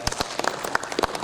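Audience at an annual day gathering in Jabalpur clapping, with sparse, distinct individual claps in an uneven rhythm rather than a full crowd roar.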